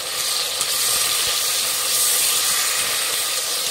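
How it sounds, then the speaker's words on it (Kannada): Tomatoes frying with onions and green chillies for Hyderabad veg kuska rice, producing a loud, continuous hissing sizzle with no pauses, steady from start to finish. "ಟೊಮೆಟೊ ಮೆತ್ತಗಾಗೋವರೆಗೂ ಫ್ರೈ ಮಾಡಬೇಕು"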